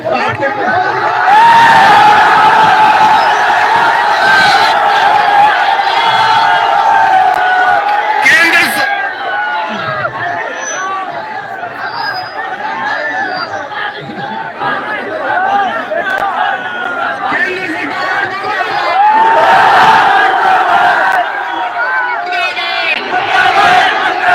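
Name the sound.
protest crowd chanting slogans against the central government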